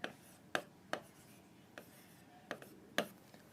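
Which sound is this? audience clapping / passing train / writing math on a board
writing math on a board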